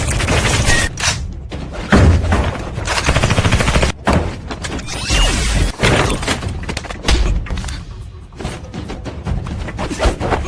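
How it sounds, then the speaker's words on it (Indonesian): A film fight scene erupts in rapid bursts of gunfire mixed with heavy thuds and booms, loud and close, coming in dense clusters with brief gaps. "Dengan sigap, Dumupa segera kembali ke dalam kamarnya dan mencoba menembak mereka."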